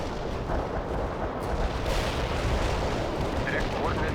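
Artillery barrage in World in Conflict, a continuous dense rumble of heavy shelling and explosions that fills the whole stretch at steady loudness, with faint radio-style voices mixed underneath.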